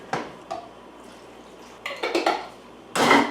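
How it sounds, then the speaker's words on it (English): A utensil scrapes and clinks against a pot as a chunky pepper jelly mixture with peppers and apple cider vinegar is stirred, with irregular close knocks and a louder scraping swirl at the end. "Probably have to stir this real good so all the peppers get evenly distributed"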